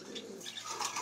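Pigeons kept for sale coo softly in a short burst, a few low throaty calls at moderate distance over faint background noise.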